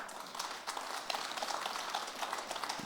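An audience claps through a Buddhist dharma talk at Jogyesa temple, a soft, steady patter of many hands heard at some distance for a few seconds.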